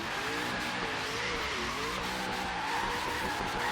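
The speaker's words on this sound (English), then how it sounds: "Oh, she drifts, ladies and gentlemen." A Crown Victoria drift car in Forza Horizon 3 skids with a continuous tire squeal over a revving engine drone, steady and fairly close throughout, with no talking.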